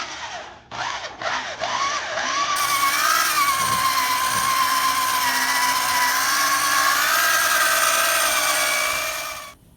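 A power polisher buffs a car headlight with Meguiar's polishing compound. A few brief start-up taps give way to a loud, steady motor whine that holds for several seconds and then winds down.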